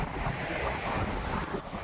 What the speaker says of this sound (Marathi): इथं वाऱ्याचा आवाज येतो असेल तुम्हाला